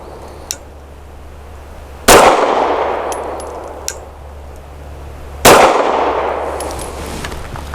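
Pistol fired twice with Winchester Elite Defender 147 grain bonded jacketed hollow point rounds, two loud sharp reports a few seconds apart, each ringing out into a decaying echo, with faint metallic clicks between shots.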